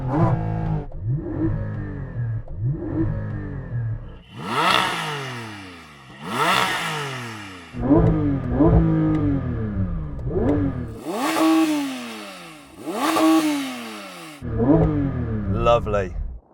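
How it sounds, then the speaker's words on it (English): A Porsche 911 engine revs repeatedly in loud surging bursts during a launch-control start, pitch sweeping up and falling back, with a steady idle rumble at the start and voices audible at moments. "keep your left foot on the brake, pull in both paddles. and then rev your engine"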